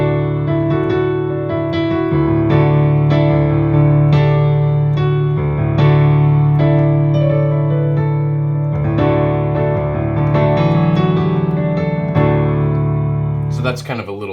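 Piano playing the chords of a worship song, notes rolled upward one by one through each chord, a steady flowing sequence that is close and loud and ends abruptly.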